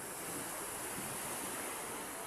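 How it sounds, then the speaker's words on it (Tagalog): Sea waves wash continuously onto a beach, a dense, even roar of surf with steady wind-like hiss and no breaks or voices. "Ito po kami sa dagat ngayon."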